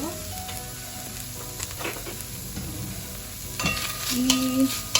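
Korean japchae being sautéed in a pan without oil, a continuous dry sizzle with stirring scrapes that grow louder toward the end, a faint tone briefly sounding.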